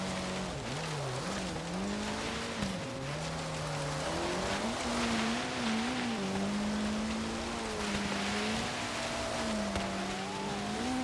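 Race car engines roar in Forza Horizon 3, a Lamborghini Reventon in the field, one engine droning loud and close with rising and falling revs and shifts under a steady wash of road noise.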